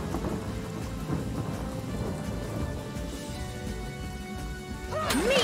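Steady heavy rain pours with low rolling thunder throughout a storm in the fantasy game Divinity: Original Sin, ending in a louder crash and a brief rising tone.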